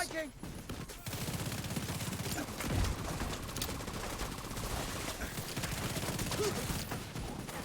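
Rapid automatic gunfire from a turret in the shooter game The Division 2, sustained bursts of steady crackling shots running through the whole stretch, with other game effects mixed in.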